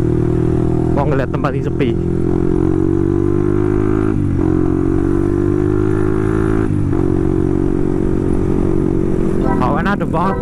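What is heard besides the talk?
motorcycle exhaust revving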